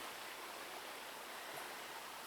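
A stream flows outdoors in Idaho, giving a steady, even rush of water that continues unbroken at moderate loudness with no voices.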